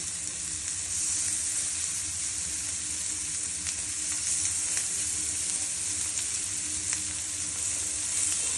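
Small fish-oil fritters frying in a pan with no added oil, giving a steady, dense sizzle that holds close and even throughout, with faint crackles and no talk.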